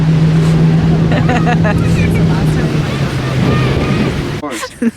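A tour boat motor drones steadily with water and wind noise on a scenic lake tour in Winter Park, while people talk and cheer over it, then the engine noise drops away near the end.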